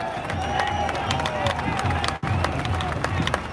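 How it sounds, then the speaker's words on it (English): An outdoor crowd at a large firefighters' and farmers' protest in Melbourne claps and cheers in a continuous, busy wash of noise. Voices mix in, and there is a brief dropout partway through. "A big round of applause for Joe."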